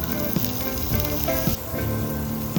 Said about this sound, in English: let this cook in the oil until the cumin seeds start to pop